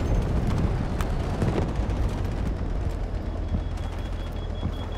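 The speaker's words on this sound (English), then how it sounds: "Incoming artillery, destroy the enemy." Artillery barrage in the video game Delta Force rumbles as a dense, continuous roar of overlapping explosions and deep booms, loud and sustained throughout.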